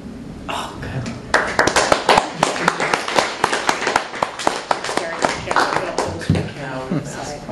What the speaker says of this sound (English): For no other reason than continuity, let's clap.